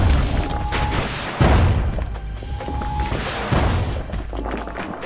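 Heavy booming cannon blasts from the Bastion video game, three deep thuds spaced about every one and a half seconds over a dense, rumbling game soundscape with tonal whistles between shots.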